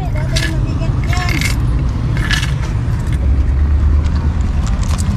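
Coins jingling in a bag, a steady metallic rattle heard close over a continuous vehicle-like rumble, with people talking throughout.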